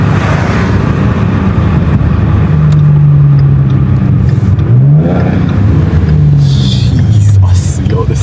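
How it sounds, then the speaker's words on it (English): A loud Mustang engine revs hard, its pitch climbing and then dropping sharply as it downshifts, with the roar dominating up close. "Crispy ass downshifts in a second."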